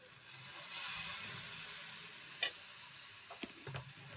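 Rice-flour batter for nolen gur chitoi pitha ladled into a hot pan gives a soft, steady sizzle, close by, with a few light clinks of the ladle near the end.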